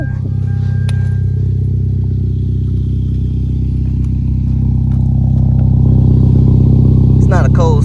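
A Hyundai Veloster Turbo with a lowered stance idles after start-up, its exhaust a steady, loud low rumble that rises slightly toward the end, with faint clatter and brief talk in the background.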